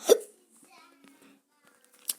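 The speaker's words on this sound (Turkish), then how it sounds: "ah hıçkırım tuttu" A single sharp, loud hiccup bursts out right at the start, followed by quiet, sparse background sounds and a brief soft noise at the very end.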